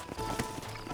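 Horse hooves clip-clop on a ranch trail in the 2010 video game Red Dead Redemption, a quick, steady patter at moderate distance beneath game ambience, with no one speaking.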